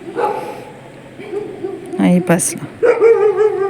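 A dog barks and yelps by a roadside in Georgia, with a few loud, close barks mixed into people talking nearby.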